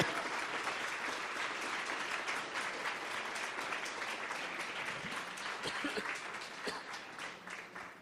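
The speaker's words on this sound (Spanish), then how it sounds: "Dale ese aplauso bien fuerte al Señor." A church congregation claps loudly and steadily for the Lord during a worship service, a dense sustained applause that swells slightly near the end with a few louder individual claps.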